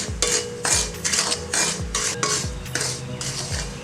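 Semolina (rava) is stirred and roasted with ghee in a pan, a spoon scraping the pan in a steady rhythm of repeated strokes about twice a second. The scraping is close and moderately loud, with no talking.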